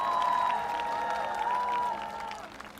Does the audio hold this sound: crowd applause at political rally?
yes